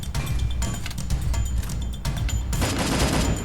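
Gunfire in a shooter video game with an M4A1 rifle, loud bursts of rapid shots with brief gaps, then a heavier, denser volley near the end.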